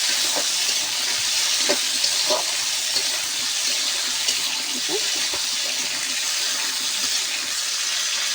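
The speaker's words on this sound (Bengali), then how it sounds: "ভেন্ডিটা আলুটা একটু হালকা করে ভেজে নেব।" Steady hissing sizzle of okra and potato frying lightly in a pan, with occasional soft scrapes and clicks, continuous throughout.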